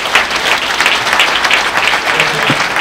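Sustained audience applause fills the room, a dense steady patter of many hands clapping at an even loudness throughout, with faint voices mixed in.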